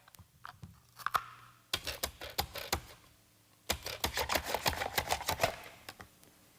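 Potatoes being sliced on a mandolin slicer, quiet crisp clicking strokes in two quick rhythmic bursts separated by a short pause, close and alone.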